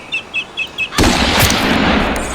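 A single loud, close rifle shot rings out in a hunting video game after four soft, evenly spaced bird chirps, followed by a long, rolling echo that fades slowly.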